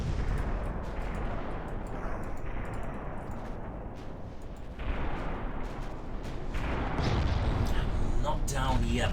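Naval battle in Ultimate Admiral Dreadnoughts, with battleship 11-inch gunfire and detonations: a continuous dense rumble of artillery and explosions, swelling louder toward the end, with no clear speech over it.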